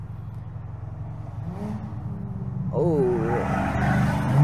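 A Toyota GR86 with an HKS Hi-Power single XL muffler idles with a low rumble, then revs up in a rising, wavering exhaust note, heard nearby with a brief voice over it.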